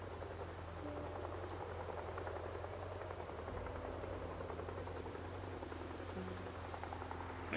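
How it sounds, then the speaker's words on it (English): Helicopter flying overhead in the video game Project Zomboid, a constant distant rotor thumping and droning that stays even throughout, with no talk. "I'm waiting for the heli to go away."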